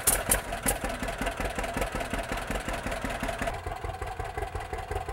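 A 1936 John Deere Model A tractor engine, hand-started, runs with a steady low chugging idle and regular thumping beats, close and prominent throughout.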